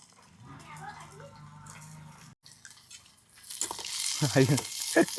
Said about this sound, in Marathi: कसा आहे आवाज कसा आहे हे मिरच्या कांदा फोडणी